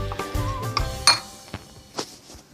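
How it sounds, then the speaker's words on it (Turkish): A spoon stirs a vinegar sauce in a bowl for a crispy potato börek, giving several light metallic clinks against the dish, including one sharp ring near the middle, close by with no talking. "Şimdi karıştırıyorum bu sosu"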